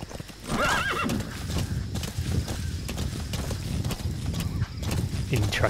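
A horse in the video game Metal Gear Solid V: The Phantom Pain gives a loud, wavering neigh near the start, followed by steady clip-clopping hooves that continue to the end over other game sounds.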